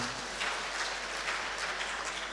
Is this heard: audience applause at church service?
yes